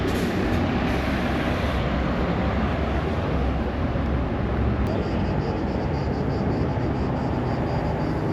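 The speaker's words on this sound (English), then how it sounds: "On the metro here in Athens" Riding the Athens metro: a loud, steady rumble of the underground train in motion fills the whole stretch, with constant broadband roar and no clear talk.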